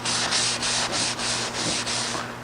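Surface rust is scrubbed off a car fender toward bare metal in a run of rhythmic back-and-forth strokes, steady and close, over a faint constant hum.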